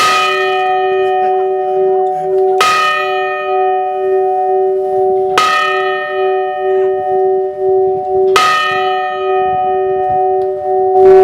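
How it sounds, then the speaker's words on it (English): The bell aboard the battleship USS Iowa rings four loud, clear strikes a few seconds apart, each tone ringing on and fading before the next. "We're going to ring 4 bells to signify 4 p.m."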